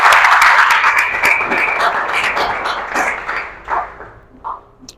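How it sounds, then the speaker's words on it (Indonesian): A school class claps hands together in a lab classroom, a burst of fast, uneven clapping that starts loud and gradually thins out into a few scattered last claps. "tepuk tangan dulu biar semangat"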